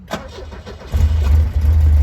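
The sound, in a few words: classic car engine starting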